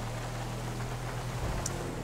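Steady rain patters on the roof of a police car, an NYPD Ford Explorer, in the GTA V LSPDFR video game. It forms a continuous wash over a low engine hum, with no talking.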